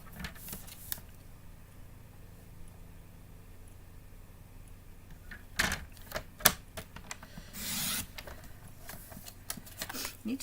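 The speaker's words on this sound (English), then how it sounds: "I'm going to cut this into 3 centimeter strips." Paper trimmer slicing cardstock into 3 centimeter strips, a few close sharp clacks and a longer scraping slide of the blade, with faint voice nearby in a quiet craft room.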